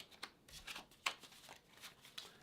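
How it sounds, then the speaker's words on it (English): A deck of playing cards is shuffled by hand at close range, quiet riffling bursts and soft flicks in an irregular rhythm, with no talking. "And we're going to just do a little shuffle"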